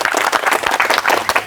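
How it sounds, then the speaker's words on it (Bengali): Audience at a Bengali village brick-holding challenge contest breaks into sustained applause, dense clapping from a crowd filling the whole moment without pause. "আমাদের এই একটি জোরে করে করতালি হয়ে যাক"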